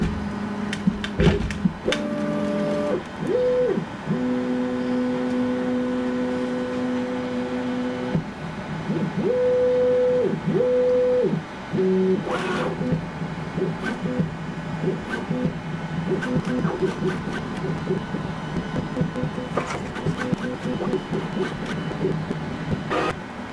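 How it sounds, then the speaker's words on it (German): A Bambu Lab A1 3D printer fitted with an AliExpress nozzle runs close by, its stepper motors whining in sustained tonal runs and pitch shifts between clicks and brief rattles. "Der Druck könnte jetzt mal losgehen."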